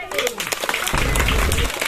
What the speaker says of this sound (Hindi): ताली मारो, इसका झूमर देखो।